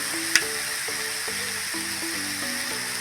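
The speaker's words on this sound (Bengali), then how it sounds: "এটা আমি দিয়ে করে কারি পাতাটা দিয়ে দিচ্ছি" Curry leaves sizzle in a frying pan with a steady bright hiss. A sharp pop lands near the start, and faint stirring scrapes and clinks come through underneath.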